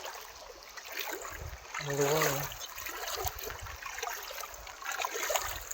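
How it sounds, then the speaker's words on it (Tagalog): Floodwater rushes through a small river in farm fields after a full day of typhoon rain, a steady broad wash of flowing water that continues throughout, with a person speaking briefly over it. "Ay, may maragasa yung tubig doon."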